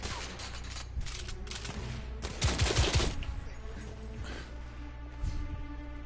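Period firearms firing in the shooter game The Order: 1886: close bursts of gunshots and rattling fire over a dense, noisy battle background, with louder clusters of shots in the middle and toward the end.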